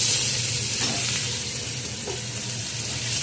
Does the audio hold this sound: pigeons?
no